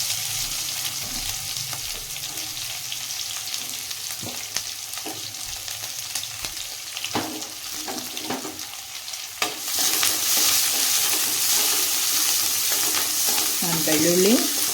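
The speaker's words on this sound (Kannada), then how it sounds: "ನಾನು ಬೆಳ್ಳುಳ್ಳಿ ಉಳ್ಳಾಗಡ್ಡಿ ಎರಡು ಸೇರಿಸಿ ಒಗ್ಗರಣೆ ಹಾಕ್ತಾಯಿದ್ದೀನಿ." Garlic and onion sizzle in hot oil for a tempering, with steady loud frying hiss and occasional stirring scrapes, growing more intense partway through.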